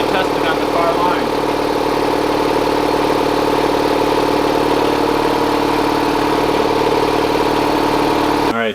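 An air compressor in a garage runs steadily while building pressure toward about 100 psi, a continuous loud mechanical drone with motor hum and rattle that holds evenly throughout, then cuts off abruptly at the very end.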